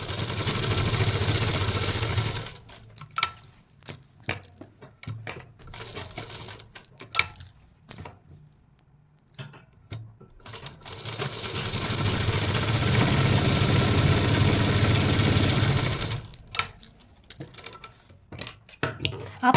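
Sewing machine stitching salwar pocket fabric, running in bursts with a rapid chattering needle rhythm, pausing between runs and then resuming steadily.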